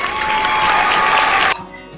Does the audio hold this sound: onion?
no